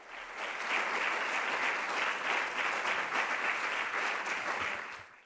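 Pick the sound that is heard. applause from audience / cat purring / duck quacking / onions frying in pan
applause from audience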